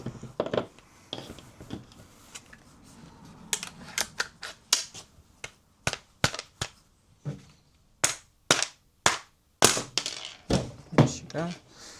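A Walther Reign M2 air rifle fires a long series of sharp, close cracks, sparse at first then in a fairly regular rhythm, with some talk and handling noise in between.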